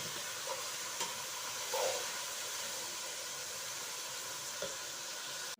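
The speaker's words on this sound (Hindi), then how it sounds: "हम इसको मज़ीद 5 मिनट तक भूनेंगे, फ्राई करेंगे सारे मसालों को।" Okra frying with spices in a pan, a soft, steady sizzle and hiss close by with a few faint stirring clinks, quiet and continuous without talk.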